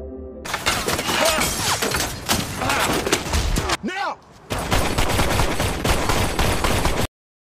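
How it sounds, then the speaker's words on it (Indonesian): Dense bursts of rapid gunfire, shots from an upper floor, crackle loudly and continuously, broken by a brief lull with a shout before the shooting resumes and cuts off. "lalu ditembaki oleh seseorang dari lantai atas"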